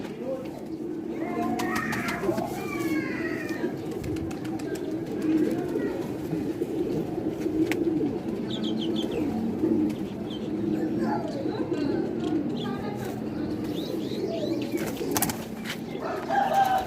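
Ferozpuri pigeons coo steadily and fairly close, a continuous low burbling chorus with occasional higher chirps and wing flutters; a voice is faintly present in the background.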